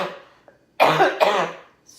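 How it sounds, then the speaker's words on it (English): A couple of sharp coughs close to the microphone, preceded by a faint breathy sound, with quiet moments around them. "The more I talk, the more I cough."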